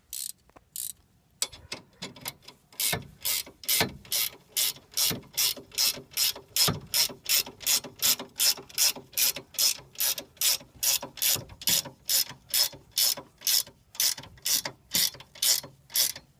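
A ratchet tightens the bolts on leaf spring helpers, starting with a few hesitant clicks and then settling into a long run of evenly paced, crisp ratcheting strokes, close and loud, with no talking.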